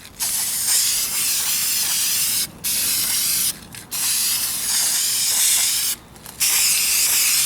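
Duplicolor spray paint hisses onto the rear bumper of a 2004 Kia Spectra in several long, close bursts with short breaks between passes.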